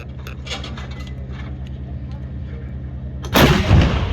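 Bofors and Dhanush artillery guns fire a round at an army firepower demonstration in Devlali, Nashik, a sudden loud deep blast about three seconds in after a steady low rumble and faint voices.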